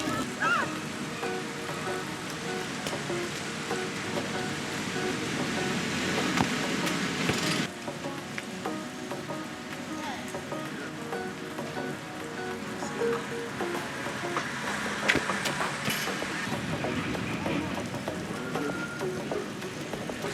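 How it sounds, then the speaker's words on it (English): Steady rain falls outdoors on an open field, a dense continuous hiss of drops holding at an even level throughout, with faint sounds of people in the background. "So the rain caught us, unfortunately."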